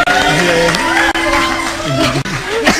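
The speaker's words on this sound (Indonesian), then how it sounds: "tepuk tangan lu dong" Comedy show audience cheering and clapping in a studio, a loud, dense crowd roar with whoops and shouted voices over scattered applause, briefly dipping twice before surging again.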